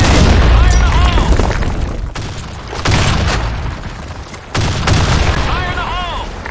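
Grenade blasts in the online shooter Blackshot, loud booming explosions with bursts of gunfire around them, alongside shouted in-game voice callouts.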